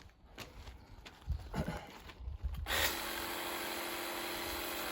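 A TITAN TTI855PRW cordless 18V pressure washer switches on and sprays water in a steady, loud hiss that fills the second half, after a few scattered handling knocks and clatters.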